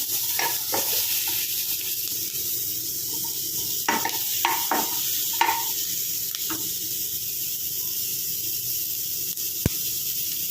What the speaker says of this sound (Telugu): ఇప్పుడైతే ఆనియన్స్ కూడా వేసేసుకున్నాం ఇవి కూడా బాగా ఫ్రై అవ్వాలి